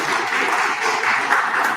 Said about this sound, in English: I think this is also worth the big round of applause